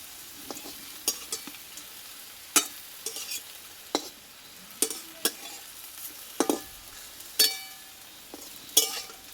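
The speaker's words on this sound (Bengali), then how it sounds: "বারে বারে উল্টিয়ে পাল্টে এভাবে কিন্তু নাড়াচাড়া করে ভেজে নিতে হবে দুই পিস" Potato paratha fries in oil in a pan and is turned repeatedly, giving a soft background sizzle broken by about a dozen sharp scraping clinks of the turner against the pan at irregular intervals.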